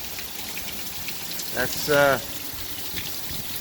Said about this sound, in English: It's not just rainy, it's windy.